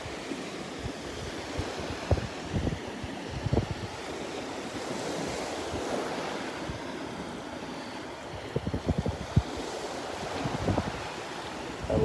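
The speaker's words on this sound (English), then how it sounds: "The waves are kind of sifting through everything for me here." Ocean waves wash continuously onto the sand at Delnor-Wiggins beach on a morning walk, a steady broad surf roar with wind buffeting the microphone and occasional louder swells, no voices.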